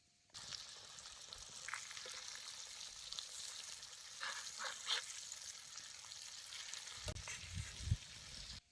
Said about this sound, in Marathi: तव्यातच मास तळायचं तळते बी लवकर